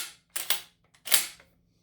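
A stainless pump-action 12-gauge riot shotgun with a short barrel and full stock is racked twice: two sharp, close metallic clack-clack strokes about half a second apart, back then forward, with no other sound.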